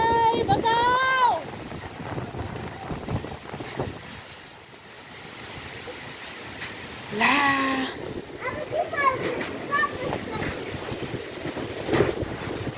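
A strong windstorm strong enough to tear off house roofs roars in gusts, with heavy rushing wind noise buffeting the microphone while a distressed voice speaks over it.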